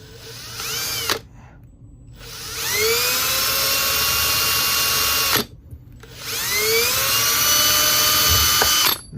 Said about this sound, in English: So then we'll just drill it right about there.